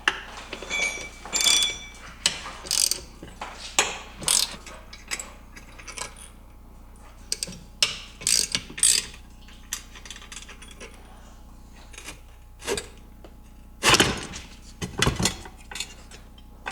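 Two bolts are removed from the stator of an Onan QG RV generator engine: scattered metallic clicks, ratchet turns and clinks of loose hardware in irregular bursts, close by, with quiet gaps between them.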